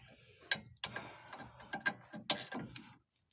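Close, crisp ratcheting clicks from a Matco ratchet wrench worked by hand, coming in several quick bursts with brief pauses between them, then stopping.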